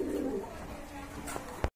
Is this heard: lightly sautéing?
no